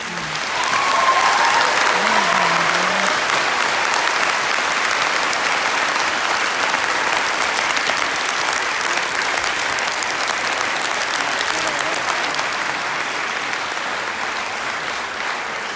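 An audience gives a long, steady round of clapping for a speaker, dense and even throughout, rising quickly and holding at a strong level before slightly tapering near the end.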